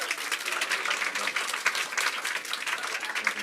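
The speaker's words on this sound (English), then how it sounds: "can we get another round of applause?" Steady audience applause fills a PechaKucha Night presentation event in Bermuda, a dense, even patter of many hands clapping continuously with no speech over it.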